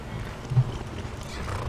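Horse in the video game Skyrim, a brief snort or neigh with soft hoof clops over low game ambience.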